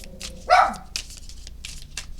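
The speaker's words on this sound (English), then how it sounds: "Sorry about the dogs." Dogs bark in the background during a tarot card reading: one loud, close bark burst near the middle, with fainter, more distant yaps around it over low room noise.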